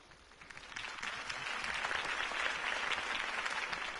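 Crowd applause from a political rally for Harvey Dent's campaign in the Batman Telltale Series video game, a broad steady clapping that swells after the first second and holds loud and dense throughout.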